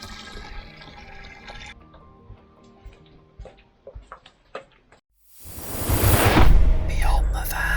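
Water from a cemetery tap rushes loudly into a container for a few seconds, coming after softer clicks and knocks. The flow swells and stays steady and close.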